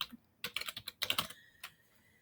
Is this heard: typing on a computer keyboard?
yes